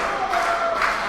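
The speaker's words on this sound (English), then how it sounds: "The crowd rallying firmly in the corner of Jeff now" A wrestling crowd at an indoor show roars and applauds in a dense, continuous wall of cheering, loud and sustained.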